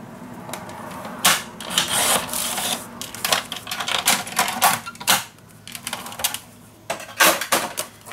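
Paper being cut for a scrapbook mini album, close and fairly loud, with a series of crisp snipping and slicing strokes in an uneven rhythm against a rustly background, no talking.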